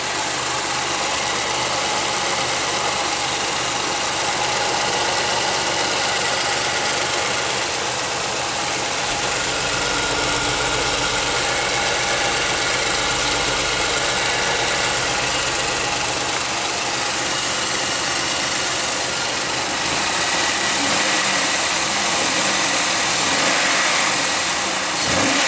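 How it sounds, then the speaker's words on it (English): A Pontiac Aztek engine with a misfire runs steadily, a dense mid-pitched hum close up, with a faint rattle that comes and goes beneath the continuous drone and no talking. "I am hearing a slight rattle."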